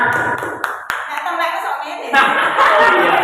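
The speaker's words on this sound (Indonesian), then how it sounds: "tepuk tangan untuk kita semuanya" Schoolchildren in an elementary classroom clap during a lesson, scattered sharp claps mixed with lively children's voices and chatter that dominate the scene.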